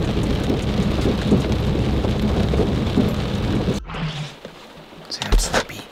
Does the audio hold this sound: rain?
yes